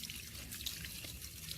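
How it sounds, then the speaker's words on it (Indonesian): Water is poured from close range onto the soil of a potted Aglaonema plant, making a steady, soft trickling and splashing that continues evenly without pause. "Kita siram dengan air langsung ya sampai ngocor."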